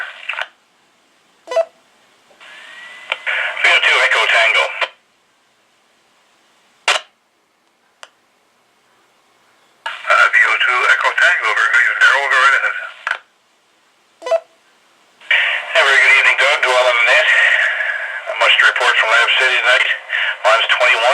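A Regency HR-212 receiver picks up amateur radio stations from Labrador, with bursts of distant, band-limited voices and crackle broken by silent gaps and sharp clicks.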